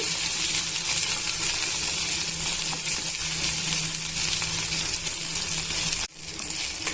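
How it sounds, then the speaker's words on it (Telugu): Okra (lady's finger) frying in a pan over a medium flame, a steady close hiss and sizzle with faint crackles that cuts off briefly near the end. "బెండకాయలో జిగురు పదార్థం ఉంటుంది కదండి ఆ జిగురంతా పోయేంత వరకు వేయించుకోవాలి"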